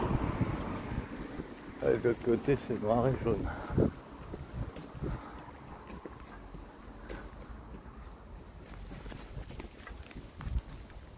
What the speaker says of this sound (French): Avec le vent qu'il y a.